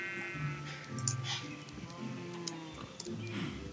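Sheep bleats from a Minecraft-style video game, a few short calls with game background sounds, moderately loud.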